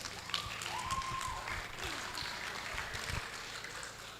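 A crowd claps steadily at a public speaking event, a continuous even wash of applause lasting several seconds without a clear peak.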